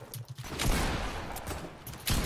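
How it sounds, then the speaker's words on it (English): Gunfire from a player shooting an enemy in Fortnite Battle Royale, Season 8, heard as a dense, loud burst of game shots running nearly continuously for about two seconds, with a few sharper cracks near the start and end. "that's you shooting him"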